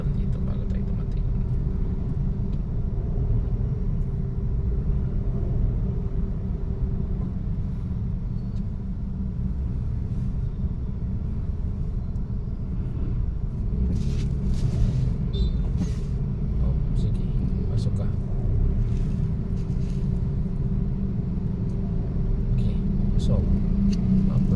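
Steady, heavy road traffic in drizzle on a route from Pasig City to Taguig City rumbles throughout, with engines idling and revving and occasional hiss of air brakes, while voices talk over it.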